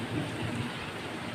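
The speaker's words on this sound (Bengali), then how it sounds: "দেখছেন কি ঝড় বৃষ্টি হইতেছে" A thunderstorm with heavy rain pours down steadily and close, a dense, even hiss with a low rumble underneath, with no voices.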